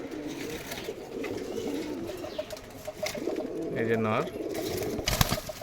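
Large pigeons coo softly in a loft in the background, low throaty burbles under someone talking nearby.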